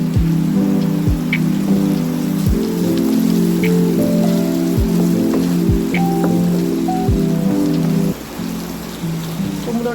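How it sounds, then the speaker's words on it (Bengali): Sliced radish and pumpkin fry in a pan for a small-fish sour curry, with a dense, steady sizzle and crackle close by and periodic soft knocks throughout. "দেখো মূলোটা একটু ফ্রাই হয়ে গেছে, এবার আমি কুমড়োটা দিয়ে দিচ্ছি।"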